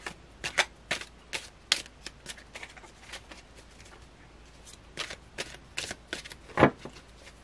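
Tarot cards being shuffled by hand, with a few cards falling out, giving soft repeated riffling flicks and slaps at close range, ending in one sharper thump.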